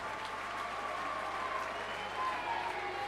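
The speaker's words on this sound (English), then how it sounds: "They've got lots more applause where this has come from." A distant ice hockey arena crowd for the Fife Flyers against the Basingstoke Bison keeps up faint, steady applause and cheering, with a higher tone running through it.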